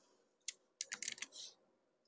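Quiet, close computer keyboard typing: a single tap followed by a quick cluster of several keystrokes, soft and crisp in a silent room.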